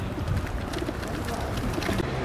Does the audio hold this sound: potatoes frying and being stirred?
no